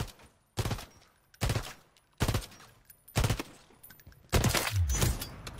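Five sharp, evenly spaced bursts from a DG-58 burst rifle in Call of Duty Warzone, each a tight cluster of rapid shots separated by short silences, close and loud, with the last burst longer and heavier.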